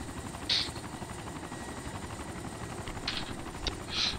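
Steady helicopter rotor and engine drone from the video game ArmA2 Wasteland, a continuous low rumble with a few short, sharp, brighter bursts breaking through near the start and end.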